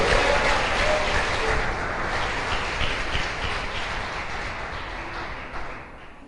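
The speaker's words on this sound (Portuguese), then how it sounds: "Aplauda Jesus mais uma vez" A church congregation applauds during a sermon, a broad wash of clapping that stays steady and then slowly thins and fades toward the end.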